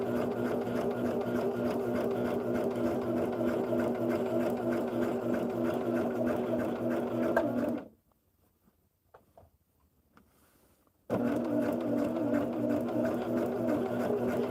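A sewing machine stitching quilt pieces together, running in a fast steady whir close by, stopping for a few seconds of near silence with faint handling sounds, then starting up again.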